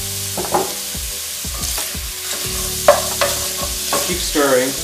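Whole shrimp sizzle and fry in olive oil while being stirred, steady crackling broken by repeated scraping and clattering strokes of a utensil against the pan.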